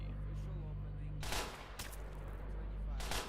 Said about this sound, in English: Ignore the gunshots.